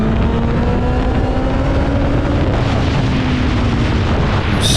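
A Suzuki Hayabusa motorcycle on a racetrack during a track day, its engine a loud, steady roar that stays at full intensity throughout, close and continuous, with a brief rise in hiss at the very end.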